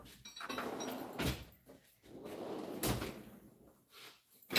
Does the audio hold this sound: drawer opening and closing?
yes